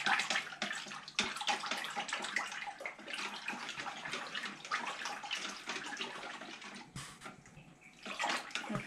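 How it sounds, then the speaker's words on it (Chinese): Water and chopped leaves are stirred together in a bowl for leaf jelly, a steady close sloshing and swishing that runs throughout, with a brief pause near the end. "现在我把水加里面了，让我搅拌一下。"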